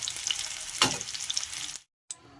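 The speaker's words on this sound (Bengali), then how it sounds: "আলুগুলো একটু লাল লাল করে ভেজে নেব" Potatoes fry in oil until reddish, a close, steady sizzle with a louder stirring scrape partway through, then a short silence and a faint return of sizzling.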